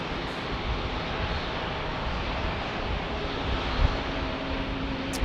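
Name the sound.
airplane passing, Alaska Airlines special livery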